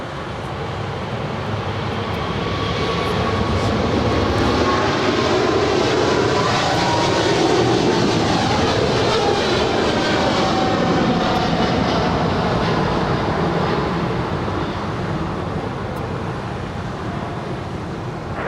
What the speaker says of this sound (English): 232 departing to Sydney on a 777 freighter.